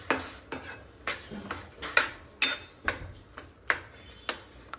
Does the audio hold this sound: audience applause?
no